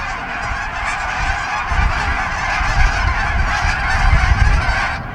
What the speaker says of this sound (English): This is the most geese I've ever seen at one time.